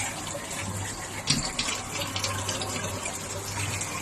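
Water draining through grain mash inside a Brewer's Edge mash and boil brewing system, a steady close gushing trickle with a brief louder splash near the start, no voices.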